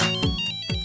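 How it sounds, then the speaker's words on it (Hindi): A short electronic phone ringtone for an incoming call in a family TV comedy scene, two bright melodic bursts close up and clear, with no talking. "अरे हर्षिता, बहुत सालों बाद फोन किया।"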